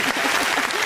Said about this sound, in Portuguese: Tem até palmas.